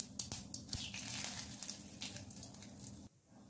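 Whole cumin seeds and a bay leaf dropped into two spoons of hot mustard oil, a soft crackling sizzle with small pops, fairly faint and close, stopping abruptly just before the end.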